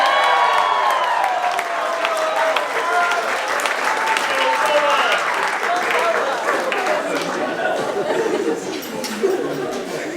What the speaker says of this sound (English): Let's everybody give Noah a cheer.